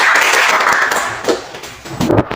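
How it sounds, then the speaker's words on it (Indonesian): A classroom audience gives a short, loud round of clapping after a student group presentation, with dense overlapping claps that thin into a few separate hits, with no talking. "ya, tepuk tangan."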